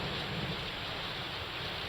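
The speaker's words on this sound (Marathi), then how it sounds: "काही भागात प्रचंड पाऊस पडतोय" Heavy monsoon rain pours steadily in Maharashtra, a dense, unbroken roar of downpour with a low rumble of thunder beneath it, constant and close throughout.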